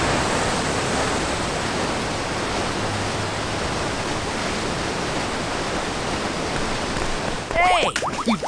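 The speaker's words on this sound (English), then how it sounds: "Going to try raising the water levels so we can get across." Water rushes in a broad, steady roar as the level rises in a sewer in the LEGO Batman: Beyond Gotham mobile game, loud and continuous, with a brief burst of game sounds near the end.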